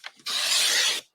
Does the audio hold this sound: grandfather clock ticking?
no